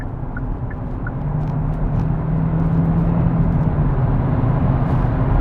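Steady low rumble of road and wind noise inside a Hyundai Tucson Hybrid moving at about 85 km/h, constant and fairly loud, with a few faint ticks early on.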